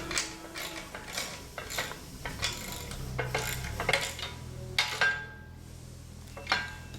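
A ratchet wrench tightens a bolt on Flow Tec linkage for a Sport Jet boat, its steady series of close metallic clicks running in bursts with no one speaking.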